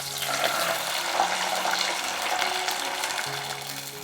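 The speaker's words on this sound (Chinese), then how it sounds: "然后再来加入开水" Boiling water is poured into a pan of fried cinnamon, dried tangerine peel, star anise and bay leaves for soy sauce chicken legs. A steady splashing, gurgling pour runs throughout with no speech.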